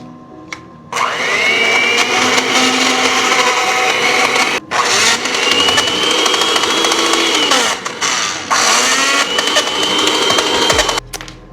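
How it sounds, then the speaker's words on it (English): An old electric stand mixer, worn after about 20 years of use, whirs loudly and steadily through blueberry muffin batter, with a few brief dips and pauses in its motor drone before cutting off at the end. "time to mix everything up. All right, hopefully my machine is not gonna break on me."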